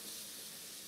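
Cream poured into hot caramelized sugar in a wide saucepan hisses and sputters, a continuous bright steamy spray that stays loud and close for under a second.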